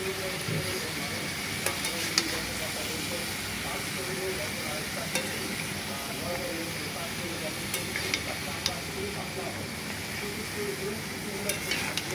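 Yardlong beans sizzle loudly in hot oil in a pan while being stirred, a dense continuous frying hiss with occasional scraping clicks of the utensil, close and steady throughout.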